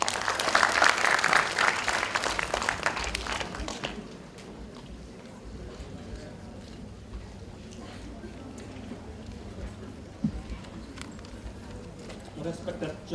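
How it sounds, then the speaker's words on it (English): University students at a Fresher's Day event applaud a Dean of Students' Welfare as he steps up, a loud dense burst for about four seconds that drops to a quieter, lingering crowd murmur with scattered claps. "Let us give a round of applause to him."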